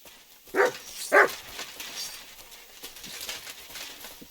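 A dog barks twice in the video game Kingdom Come Deliverance 2, two short sharp barks close together near the start, followed by quieter background rustle and ambience.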